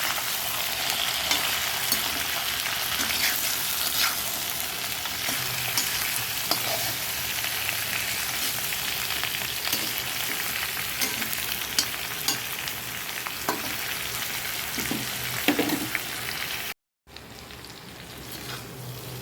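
Pumpkin, tomato and green chili fry in a pan with a loud, dense sizzle and occasional stirring scrapes, briefly cutting out before quieter frying resumes.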